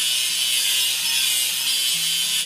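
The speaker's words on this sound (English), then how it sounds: "Let's grind the welding seam." Grinding a welding seam on a crane with a cargo bed in a railway construction game, a steady, loud, hissing abrasive whir that holds for about two seconds with faint tonal game music underneath, then cuts off abruptly.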